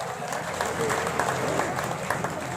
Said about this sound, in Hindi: तालियां बजाकर उनका स्वागत किया जाए।